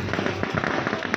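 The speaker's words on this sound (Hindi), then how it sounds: "भाई, पूरा पटाखा फटा रहा है उधर।" A brief, dense burst of crackling firecrackers goes off at a distance, a rapid cluster of sharp pops with no voices over it.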